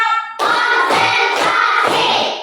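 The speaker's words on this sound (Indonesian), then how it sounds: "Kita tepuk dulu ya." Classroom children clap their hands together in a counted pattern, a burst of loud, close claps with a few heavier accented beats, right after a short tone.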